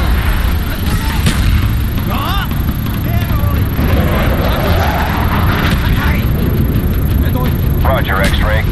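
Aircraft strafing run in Call of Duty: Black Ops, a dense roar of engine and rapid gunfire continuing throughout, loud and close, with radio chatter layered over it.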